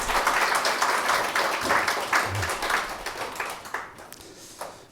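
A church congregation applauds during a Sunday service, with dense sustained clapping from many hands that thins and tapers toward the end, and faint voices underneath.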